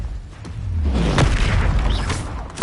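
Confringo blasting spell exploding in the video game Hogwarts Legacy: a loud, booming burst with a rumbling low-end tail, set amid continuous game effects and no talking.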